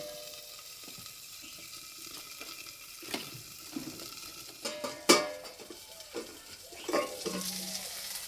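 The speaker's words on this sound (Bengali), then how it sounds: "এই যে কপিটা ভাজা হয়ে গেছে" Cauliflower pieces fry in a pan with a faint, low sizzle, broken by occasional scraping and clinking as they are stirred and turned.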